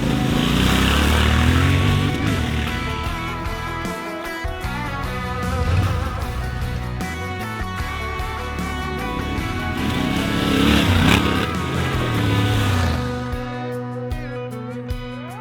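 A 2025 Yamaha Ténéré adventure motorcycle ridden off-road on deserted dirt tracks in Austria, its engine droning loud and close with shifting revs and rumbling throughout, easing off near the end.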